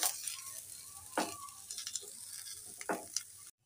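Onions fry in about three tablespoons of oil on a tawa, giving a soft continuous sizzle with a few sharper scrapes of stirring, close and quiet, before cutting off abruptly.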